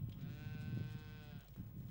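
A single sheep on a farm bleats once, a clear wavering cry lasting over a second, over low rumbling background noise.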